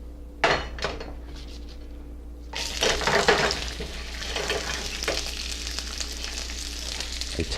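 Peanut oil going into a pan heated over medium-high heat: a clatter of metal and utensil knocks, then a sudden loud, steady sizzle and crackle that carries on close up with a few scrapes.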